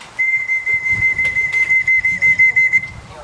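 Someone whistles a single steady sustained tone lasting nearly three seconds at a pigeon racing club's arrival of birds during a competition flight, alongside low rumbling background noise.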